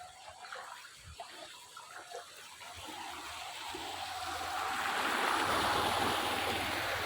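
Floodwater running through a street after heavy rain, a steady rushing and splashing flow that swells louder and broader over the second half, with no voices over it.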